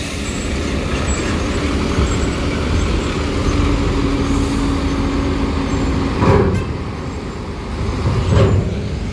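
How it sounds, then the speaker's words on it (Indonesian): Close roadside traffic noise as a medium bus with a Neptunus body rolls past, a steady loud engine rumble with brief hissing bursts like air brakes near the middle and end, and no talking. "Disusul medium bus Raja Basa Utama bodi Neptunus."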